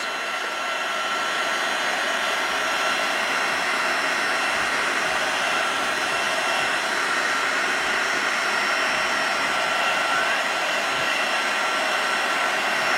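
A heat embossing tool blows steadily over a gold Christmas card, its hot-air fan making a loud, constant whooshing roar like a hair dryer that runs unbroken throughout, close by and with no talking.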